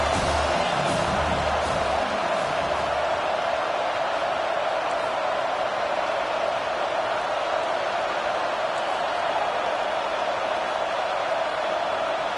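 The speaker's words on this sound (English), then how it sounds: "Decibels rising as the crowd gets behind this defense on third down" A stadium crowd roars steadily in a college football video game as the home fans rally behind the defense on a third down against South Carolina, forming a dense, unbroken wall of noise throughout.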